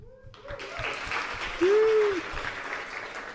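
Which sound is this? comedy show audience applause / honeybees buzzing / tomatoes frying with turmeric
comedy show audience applause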